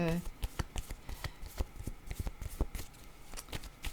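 Tarot cards shuffled by hand during a French-language card reading, quick papery flicks and soft taps in an irregular close rhythm, with a brief voice at the very start.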